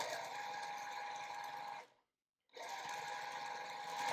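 A sewing machine stitches jelly roll quilt pieces for a 9-patch block, making a close, steady whirring hum that stops for about half a second and then starts again.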